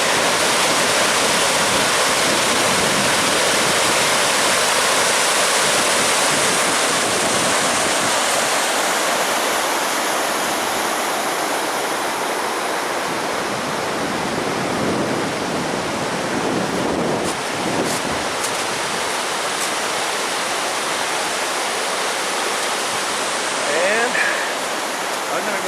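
Dead Sleep Creek, reached by a canyon trail, rushes in a loud, continuous broadband roar of flowing water close to the microphone, with some wind buffeting mixed in.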